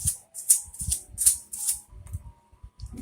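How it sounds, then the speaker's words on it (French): Fine sandpaper is rubbed over a small wooden part of a miniature house, giving quick, scratchy back-and-forth strokes in a steady rhythm, close and fairly loud, with light taps in between. "On vient passer le petit papier sablé."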